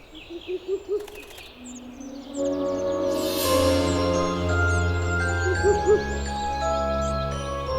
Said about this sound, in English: A Ural owl calls out from the branches of a beech tree.